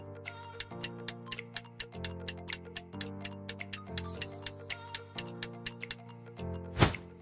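A clock ticks steadily and evenly, close up, with a soft musical tone running underneath the ticks and a sharper knock near the end.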